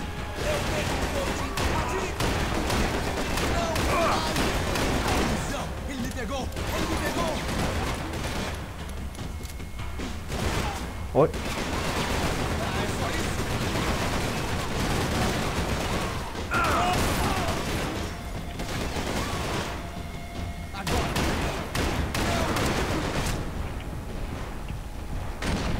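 Gunfire in the video game Max Payne 3, bursts of shots and impacts in a loud, dense mix that drops away for brief pauses and then resumes, with a sharp single crack near the middle.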